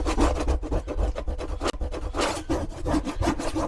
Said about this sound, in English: I'm just going to scrape all these big chunks off.